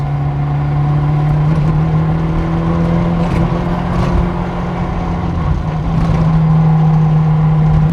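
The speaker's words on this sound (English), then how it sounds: "So I'm going to drive around some of the crappy bumpy roads in town and see how comfortable it is." An Opel Manta A with upgraded suspension drives over rough, bumpy town roads, giving a steady droning engine hum from inside the cabin with faint knocks and rattles throughout.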